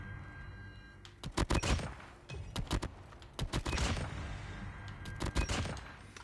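Gunshots from the Maddox rifle in the mobile game COD Mobile: sharp bursts of several quick shots, repeated four or five times with short pauses between them. Each burst is loud and close, and there is no talk.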